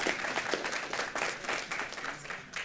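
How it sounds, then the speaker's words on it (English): Audience applause for the panelists at a Philadelphia panel discussion on term limits: steady, dense clapping from a room full of people, continuous for the whole stretch and tapering slightly at the end. "Please give them a round of applause."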